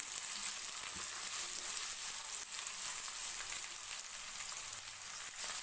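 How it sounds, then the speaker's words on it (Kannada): Garlic and onion frying in hot oil for avalakki uppittu, a steady bright sizzle that continues without a break, with occasional faint clinks and stirring underneath and no talking. "ಇದು ಎಣ್ಣೆಲಿ ಚೆನ್ನಾಗಿ ಫ್ರೈ ಆಗಲಿ."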